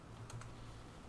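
Faint keystrokes on a computer keyboard while entering a ping command in a Cisco switch configuration, two quick soft taps over a low background hum.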